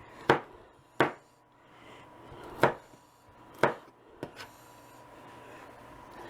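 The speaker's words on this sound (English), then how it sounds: "So I'll chop it up." A knife chops ingredients for a cheeseburger bake on a cutting board: about six sharp, close, irregularly spaced chops, with no talking.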